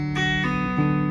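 Short phrase from a song's riff, a few plucked guitar notes with a pull-off near the end, played alone and close with a clean, ringing tone.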